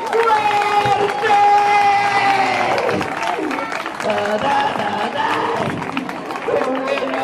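A theatre audience at a magician's comedy show in Alcorcón bursts into loud, sustained applause with cheering. A voice rings out over the clapping and the crowd noise stays dense throughout.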